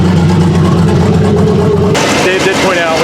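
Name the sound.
single cab truck engine running, earlier recording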